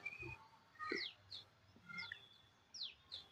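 Scattered, faint house sparrow chirps sound at irregular intervals against a quiet garden background, a few calls spread out over a few seconds.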